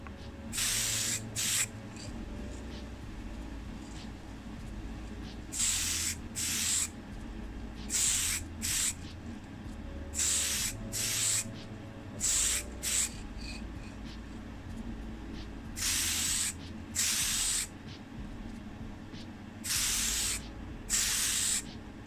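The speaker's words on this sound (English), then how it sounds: "So I'm using the black primer here." Black primer is sprayed onto parts of an Oldsmobile Super 88 in a small hobby room. A dozen or so short, crisp hissing bursts repeat with brief pauses, close by and alone.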